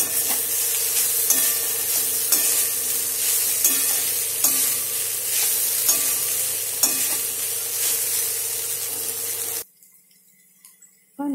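Cooked rice is mixed and stirred in a hot pan, a steady close sizzle broken by regular scraping strokes of a spoon, then cutting off abruptly to near silence.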